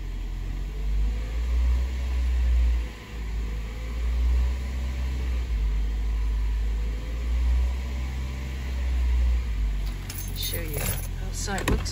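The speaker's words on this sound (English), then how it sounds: "And then revving up the engine." A car engine revs in repeated low swells during coolant bleeding, a steady droning rumble close by, followed by metallic jangling clatter near the end.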